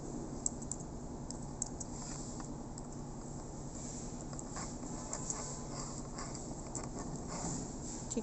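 Fingers tap out a slide title on a computer keyboard, a quick run of light, irregular key clicks over a steady background hum.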